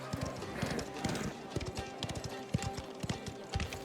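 Horse hooves gallop in a rapid, uneven clip-clop rhythm in Mafia: The Old Country, loud and close, mixed with other game sounds and some voice.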